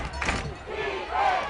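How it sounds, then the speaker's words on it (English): Fans on the Page side of a high school football game against Ravenwood chant defense, a loud, steady crowd roar that swells toward the end. "the crowd here on the Page side chanting defense"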